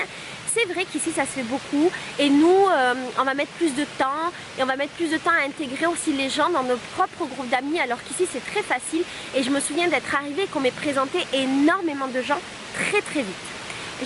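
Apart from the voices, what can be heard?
large waterfall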